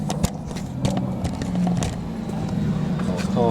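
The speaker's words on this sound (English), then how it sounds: "There's a car coming." A car approaching and driving past on a residential street, a low engine rumble building and lingering under people talking nearby.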